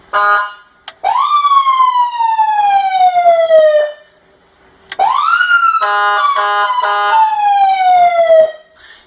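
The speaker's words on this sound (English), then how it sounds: "When it's on, turn it on and then toggle that switch. No, the siren." A loud police siren wails in long falling sweeps, cuts out briefly, then returns with a rapid warbling yelp before sweeping down again.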